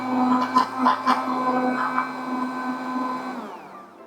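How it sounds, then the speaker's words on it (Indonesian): Electric blender mixing eggs, water and coconut milk for a Maros bread custard, a loud steady whirring drone that runs alone and then winds down near the end. "Kita akan blender semua jadi satu ya."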